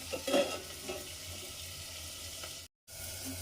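Tomatoes simmering in a covered pan for an egg and pointed gourd curry, giving a soft, steady bubbling hiss with faint clinks near the start and a brief dropout near the end.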